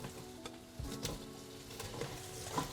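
Sausages begin cooking in a pan with cabbage and red wine vinegar, giving a soft, steady sizzle broken by a few scrapes and clinks of stirring.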